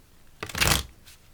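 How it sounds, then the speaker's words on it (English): Tarot cards riffled together in one quick shuffle, a short papery flutter lasting about half a second, close and fairly loud against a quiet room. "Alright, last shuffle."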